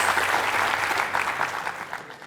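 A studio audience at a televised book quiz show gives a contestant a dense burst of clapping. The applause is loud and steady for about two seconds, then quickly fades out.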